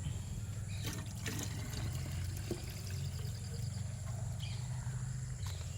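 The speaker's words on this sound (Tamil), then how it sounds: "தண்ணி இதில் ஃபுல்லாக ஊற்றணும்." Water is poured into a cup used for mixing medicine, a continuous trickling pour set against a steady low hum in the background.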